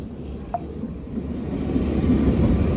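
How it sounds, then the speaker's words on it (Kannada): Kalka-Shimla heritage toy train rolling along its mountain line, a steady low rumble that swells gradually with no clear wheel clicks and no talk. "ತುಂಬ ಬ್ರಿಡ್ಜಸ್ಸು ಮತ್ತು ತುಂಬ ಟನಲ್ಸ್ ನಲ್ಲಿ ಇದು ಟ್ರೈನ್ ಹೋಗುತ್ತೆ"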